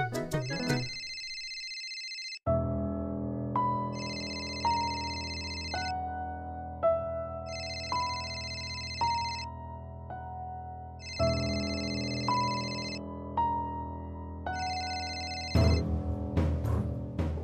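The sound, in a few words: phone ringing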